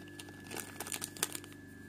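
A packet of baking powder crinkles and rustles in a kitchen while a strawberry pie batter is being made, giving a close, brittle run of crackles with a few sharper crunches near the middle.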